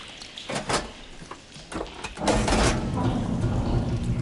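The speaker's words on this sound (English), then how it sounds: "Sounds like the water's switched" A mechanical clunk and hiss of shifting water in Horizon Forbidden West, a few brief thuds followed by a steady low rushing flow.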